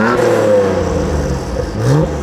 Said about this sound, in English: So we installed their titanium super muffler kit.